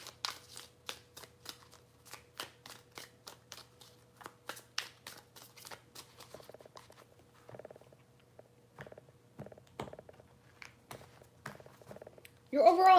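Tarot cards being shuffled three times, giving a steady run of soft, rapid flicking riffles close by over a low hum, with quieter shuffling toward the end and a louder burst at the very end.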